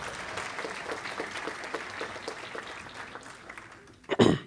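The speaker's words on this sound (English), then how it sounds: "I still would like to ask you guys to please give them a round of applause" Banquet guests applaud a success coaching team at an annual community gathering: a continuous spread of many clapping hands, with a louder burst swelling up near the very end.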